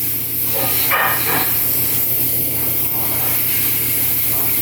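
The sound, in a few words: airbrush spraying paint on a sculpted figure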